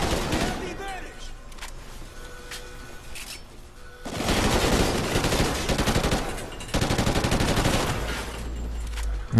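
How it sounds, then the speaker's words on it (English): Heavy gunfire in the Call of Duty Ghosts campaign, with continuous loud automatic bursts layered over a dense battle din, easing briefly before a second long volley and a third sustained stretch; someone talks under the shooting. "Inte lite skjutning på gång."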